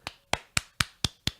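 Six sharp, evenly spaced hand claps ring out one after another at a quick steady rhythm, close and fairly clean.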